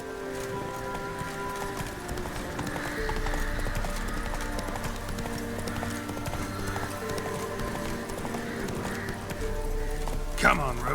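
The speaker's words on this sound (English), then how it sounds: "Come on, Roach." A horse in The Witcher 3 trots with a continuous clip-clop of hooves under game music and ambience, and voices speak over it.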